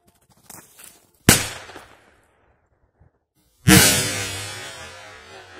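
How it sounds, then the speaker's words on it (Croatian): A strong firecracker set against a wall outdoors goes off in a sharp, loud bang that echoes and decays. A second, even bigger blast follows a few seconds later with a long, rumbling tail. Faint rustling comes before the bangs. "idemo da zapalimo petardu i bježimo da vidimo šta će"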